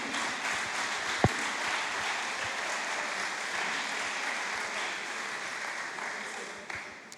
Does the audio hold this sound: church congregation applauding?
yes